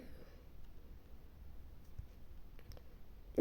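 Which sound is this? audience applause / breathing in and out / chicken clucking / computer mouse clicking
computer mouse clicking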